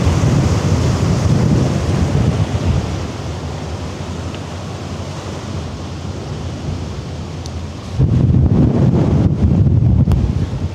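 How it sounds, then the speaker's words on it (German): Strong gale-force wind roars across the Elbe shore, buffeting the microphone in a steady heavy rush that eases slightly mid-way, then surges louder again toward the end. "Das Problem ist halt der Wind."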